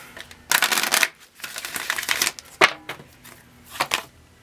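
Tarot cards being shuffled by hand in several quick riffling bursts separated by short pauses, close and crisp, with no talking.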